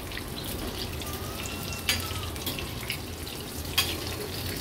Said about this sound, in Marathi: मीडियम फ्लेम वरच व्यवस्थित ह्याला आपण तळून घेणार आहोत